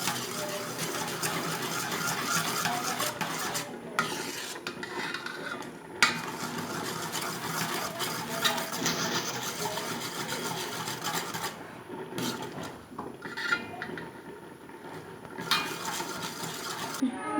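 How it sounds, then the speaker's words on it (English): Lapa dwlw curry being stirred in a pot with a metal spoon, steady scraping and clinking strokes with a few short pauses, fairly quiet and close. "So now let's stir it nicely so that it increase the taste buds."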